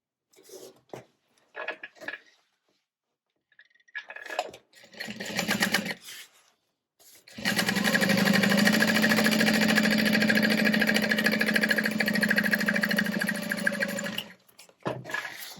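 A sewing machine runs steadily for about seven seconds, stitching a half-inch seam on the exterior contrast base panels of a unisex tote bag. Short bursts of handling and fabric noise come before it, and the machine stops near the end.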